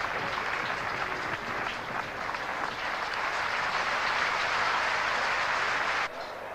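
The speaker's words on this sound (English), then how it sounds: "Great roar of applause from his local supporters here" Big local cricket crowd at an Ashes Test in Australia roars with sustained applause for Yardley's back-foot shot, a dense continuous wash of clapping and cheering held steady for several seconds before easing slightly at the end.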